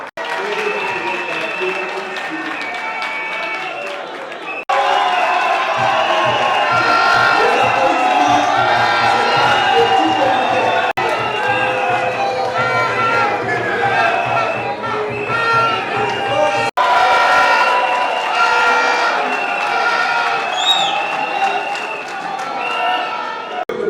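At a political rally, a large crowd applauds and cheers continuously, with whoops rising over the sustained clapping and a voice carrying over the noise.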